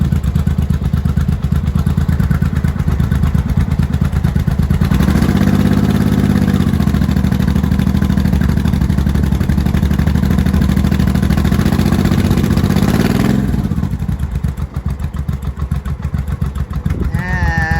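Barn-find 1982 Yamaha Maxim 750 or 1983 Honda Shadow motorcycle idling with untouched carburetors, still needing choke: a steady, loud, close low engine rumble that swells into a deeper, rougher throb midway before settling back.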